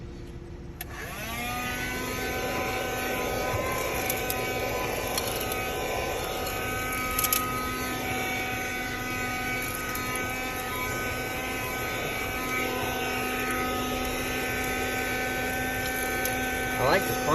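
A 1973 Dynamic handheld car vacuum runs steadily while cleaning a car, its motor giving a loud, continuous whine with a constant tone from start to finish.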